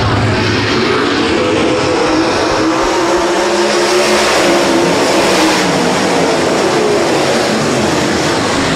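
Race cars taking the green flag at Rapid Speedway make a loud, continuous roar of many engines accelerating together, filling the whole stretch with dense, steady engine noise.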